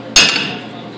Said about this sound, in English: so one whack of the hammer